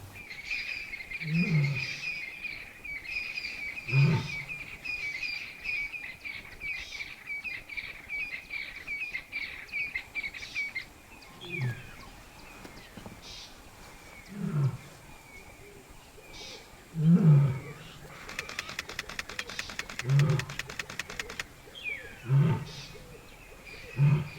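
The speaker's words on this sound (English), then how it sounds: "she lay down and started roaring loudly" A lioness in Khwai, Botswana, gives a series of deep, resonant roars and grunts repeating every few seconds, fairly close, with birds chirping and insects buzzing in the background.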